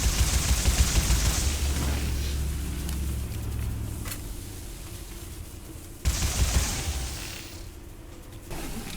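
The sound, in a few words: gunfire shooting cages in Sker Ritual video game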